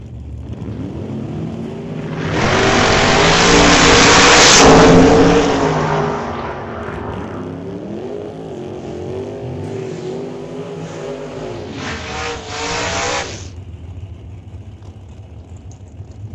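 Straight-line race cars at a drag race thunder past loudly, one engine swelling to a roaring peak and fading, then another harsh high-revving pass follows before dropping away, with no talk.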